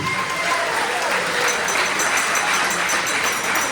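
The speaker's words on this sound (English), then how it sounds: "Another big round of applause, please, for our newlyweds, Dominic and Kinsey" Wedding guests give the newlyweds a loud, sustained round of applause at a reception before dinner service, a close, even wash of clapping that holds steady throughout.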